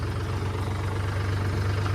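A tractor engine idles with a steady, low, throbbing hum while its trolley is stuck. It sounds close and continuous and has no break.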